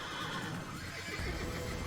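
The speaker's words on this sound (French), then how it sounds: "Non, là, il y a mon cheval." Horse in the video game Assassin's Creed whinnying amid steady battle noise, with hooves clopping beneath it throughout the short stretch.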